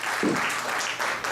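Sustained applause from a crowd at a celebration event, a thick continuous patter of clapping with a brief murmur of voices under it.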